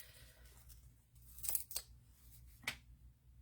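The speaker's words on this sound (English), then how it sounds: "That one ripped right off the paper." A foam adhesive dimensional is peeled off its backing paper, making two or three short, sharp ripping sounds close by against a quiet room hum.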